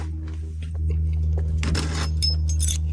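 A bunch of keys jangles and clinks briefly over a steady low engine-like hum, close by.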